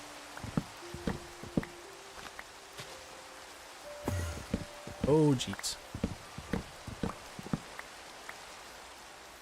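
Steady light rain patters in Minecraft, a soft continuous hiss under scattered game clicks and knocks, while someone speaks briefly over it.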